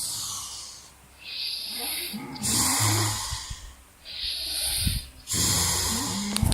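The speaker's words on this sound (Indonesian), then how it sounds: "Ngorok Indonesia." A person snores loudly and rhythmically, with rasping, hissing inhales and breathy exhales in repeating cycles, close and alone.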